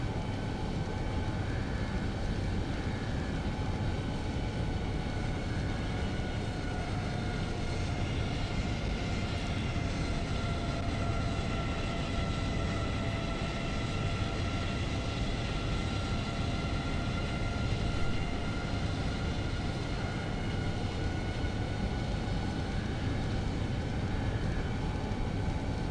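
Airliner engines spooling up for takeoff from runway 06 left in X-Plane 11, a steady loud roar with whining tones that holds constant throughout, with no talk over it.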